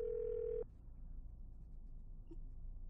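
A telephone in a horror video game set in an abandoned hotel gives a steady dial-tone hum that cuts off abruptly, followed by a low background murmur and a faint click, with no talking.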